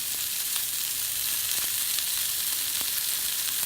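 Swiss steak browns in a hot frying pan with a steady, bright sizzle and a few soft crackles and pops, close and constant, with no voices.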